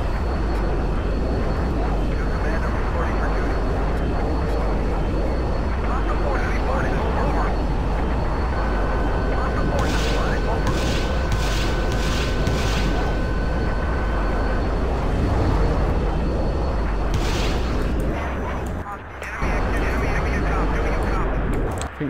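F-18 jet engine roaring in Battlefield 2 on the Kubra Dam map, a loud continuous broadband rumble that runs through the whole stretch, with brief tonal beeps and clicks layered on top.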